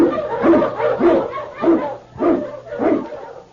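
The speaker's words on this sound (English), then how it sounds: "King, the swiftest, strongest of Eskimo lead dogs" Eskimo husky sled dogs on the Yukon trail bark in an old-time radio drama, a run of about six loud, close, rhythmic barks with yelping edges and no talk over them.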